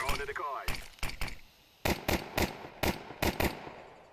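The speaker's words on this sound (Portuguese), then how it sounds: "As explosões da decoy que simulam tiros" A decoy grenade in Counter-Strike 2 fires a series of sharp gunshot-like cracks in uneven bursts, about ten in all, loud and close, with a brief rising tone at the start.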